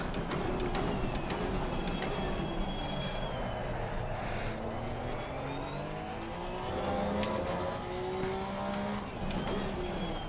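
A Porsche 992 Cup race car engine in Assetto Corsa Competizione at a cold COTA, revving steadily with rising and falling tones through the gears, loud and continuous.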